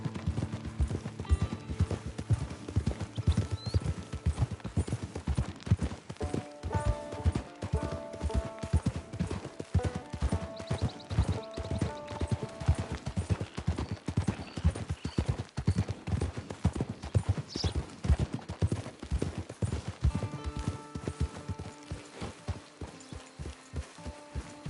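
Horse hooves clip-clop in a steady, continuous walking rhythm in the video game Red Dead Redemption 2, loud and close throughout, with faint game sounds and music tones layered underneath.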